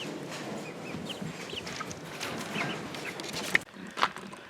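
A brood of young chicks in a pen chirping and peeping continuously, a dense close chorus with a few sharper peeps near the end and light shuffling, no talking.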